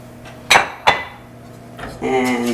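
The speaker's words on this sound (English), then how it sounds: "we're going to slowly add the milk while we're whisking" A metal whisk clinks against a pot as warm milk is added for a baked ziti sauce: two bright knocks, then softer scraping and a steady stirring rattle, with faint speech underneath.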